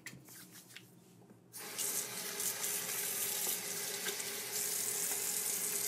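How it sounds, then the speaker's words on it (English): Hands are rinsed under a running tap at a bathroom sink; after a quiet, faint first second and a half, water bursts into a steady, hissing splash that holds loud and close. "I'm going to wash my hands"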